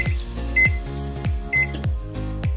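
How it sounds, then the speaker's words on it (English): An oven timer is set with a series of button presses, each giving a short electronic beep at a steady rhythm, close and clear with no talking. "I'm gonna set the timer to about 15 minutes"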